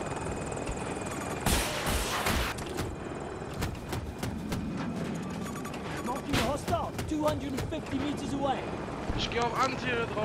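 An attack helicopter, the KA-52, in Battlefield 2042 gameplay on the Exposure map, with a steady rotor drone running throughout, broken by sharp bursts of weapon fire and impacts, fairly loud and close.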